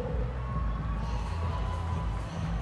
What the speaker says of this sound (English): Let's get a big round of applause, please, for both fighters.